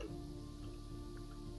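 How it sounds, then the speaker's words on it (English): Rain falling in the Terraria video game, a steady soft patter with a constant low hum beneath it, heard alone and quietly. "By the way, it's raining!"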